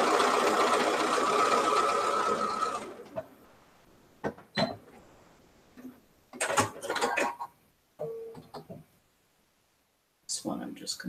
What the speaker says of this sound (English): This one I'm just going to sew a little bit extra on it.